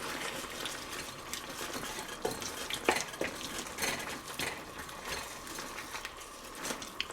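Light brown sugar being stirred into a Chinese barbecued pork and broccoli stir fry, with a steady soft scraping and clinking of utensil against pan and a faint sizzle throughout.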